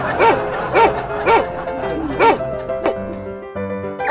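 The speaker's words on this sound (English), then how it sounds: "Dog." A video game dog barks four times in a steady rhythm, loud and close, followed by a few electronic game-like tones.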